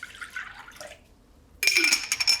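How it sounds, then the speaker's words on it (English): Milk poured into a bowl of egg yolks, a short liquid splash and trickle starting suddenly after quiet, close and fairly loud. "For the wet ingredients, I've got my egg yolks, and to it, I'll add my milk."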